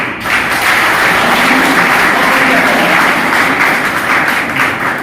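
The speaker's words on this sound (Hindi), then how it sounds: "एक बार उनके बच्चे के लिए ताली बजाइए।" An audience at a school meditation session applauding for a student, a loud, sustained wash of many clapping hands close by, holding steady for several seconds.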